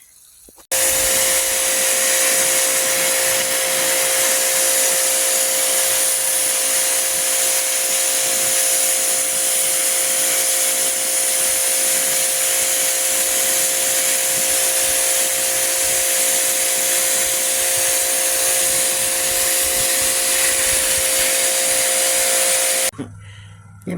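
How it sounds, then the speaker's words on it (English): A pressure washer runs outdoors cleaning rabbit cages, a steady loud spraying hiss that holds for over twenty seconds before cutting off abruptly. "I'm going to go outside, finish pressure washing this stuff"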